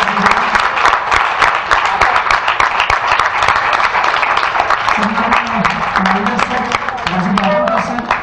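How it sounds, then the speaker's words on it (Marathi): An audience at a ceremony bursts into loud, sustained applause for the guests, dense clapping filling the whole stretch while a voice speaks over it in the latter part. "एकदा जोरदार टाळी अतिथी मान्यवरांसाठी"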